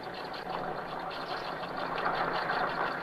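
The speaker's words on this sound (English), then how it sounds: "Only one truck sounds like that." A truck engine runs with a steady, dense rumbling drone that swells slightly toward the end, with no talk over it.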